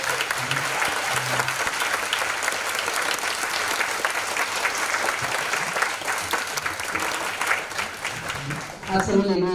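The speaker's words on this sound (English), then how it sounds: "would you please stand so that we can give you a round of applause?" Sustained applause fills the room as an audience honours Literacy Network volunteers at a community event, a dense steady clatter of many hands that stays loud throughout before thinning near the end.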